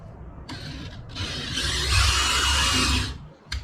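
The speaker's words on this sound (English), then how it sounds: "put your drill on reverse to cut the carpet" A power drill running in reverse whirs and grinds through carpet in a Bass Tracker boat for about three seconds, building to a louder rasp before cutting off.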